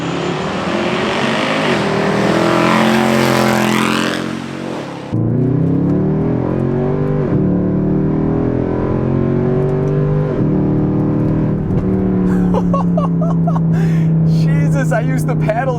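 Mercedes C63 AMG heard from outside, loud engine roaring under hard acceleration with rising revs, a sharp break near five seconds as it shifts, then a steady drone with further gear changes; people talk over the engine throughout.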